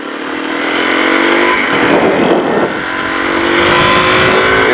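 A car engine revs through a loud performance exhaust, giving a deep, throaty roar that swells and eases over a few seconds, close and unbroken.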